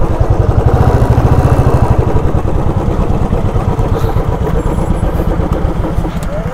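A motorcycle on a group ride to Kondaveedu fort near Guntur pulls into a hilltop viewpoint parking area, its engine putting close and loud in a steady rapid beat.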